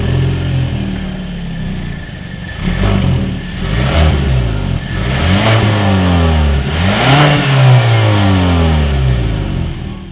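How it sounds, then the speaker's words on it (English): A 2020 Kia Sportage's exhaust revs loudly, rising and falling in about three sharp throttle blips over a steady idle, recorded close to the tailpipe with no talking. "As always, here is that exhaust clip."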